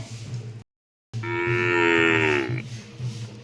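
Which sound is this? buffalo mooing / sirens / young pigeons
buffalo mooing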